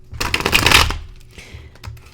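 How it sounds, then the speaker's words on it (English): Tarot cards being shuffled up close: a quick riffling burst of crisp card flutter that fades into softer sliding and tapping as the deck settles. "you may hear little tidbits here and there in the shuffling, and the card spreading"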